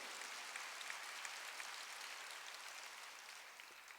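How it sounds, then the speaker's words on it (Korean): Steady applause from a church congregation during a sermon, a dense, even patter of clapping sustained throughout at moderate distance. "박수"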